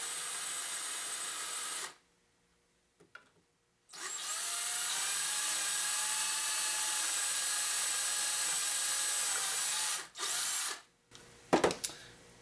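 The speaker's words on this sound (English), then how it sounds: "we'll go ahead and drill our holes through here and mount our handle" A power drill boring holes to mount a handle on a DIY grinder slider jig, two loud steady high-pitched whining runs close by, separated by a pause with a light knock, ending in a few clunks.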